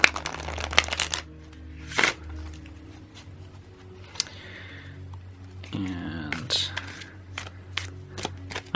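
Card riffle shuffles: quick bursts of fluttering, crisp card clicks up close, with a brief spoken word near the start and soft room noise between.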